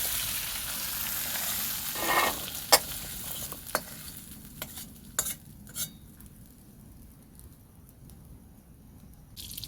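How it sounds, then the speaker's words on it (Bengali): Potatoes and jackfruit seeds frying in a pan for a rustic village curry, a steady close sizzle broken by a few sharp scraping clinks of a spatula stirring them, no voices. "আলু কাঁঠালের বীজ ভালো করে ভেজে নেব"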